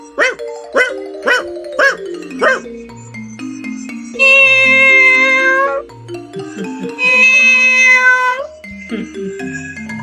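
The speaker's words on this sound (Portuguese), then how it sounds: "Vamos comparar o latido de um cão com o miado de um gato." Several short, sharp dog barks in a row, followed by two long, drawn-out cat meows with a brief pause between them.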